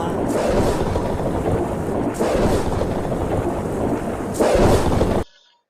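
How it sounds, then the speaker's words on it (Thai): Rolling thunder rumbles loudly in long, heavy waves with rain-like hiss, swelling three times before cutting off abruptly. "เสียงฟ้าผ่า"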